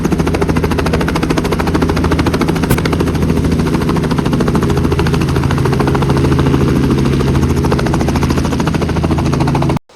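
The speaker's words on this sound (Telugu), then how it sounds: "ఇప్పుడు మేము ముగ్గురం వెళ్తున్నాం హెలికాప్టర్లో." Helicopter in flight over the ocean along the Great Ocean Road in Australia, its loud, constant rotor thrum and engine roar filling the cabin steadily before cutting off abruptly at the end.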